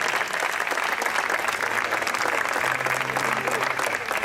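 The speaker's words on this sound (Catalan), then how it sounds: "l'aplaudiment ben fort" Loud, steady applause from an audience at a music show by a tuna student band, a dense wash of clapping lasting throughout with a faint low hum underneath and no pauses.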